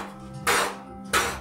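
A hammer lands two sharp, ringing blows about two-thirds of a second apart, close and fairly loud against a quiet background with a low steady hum.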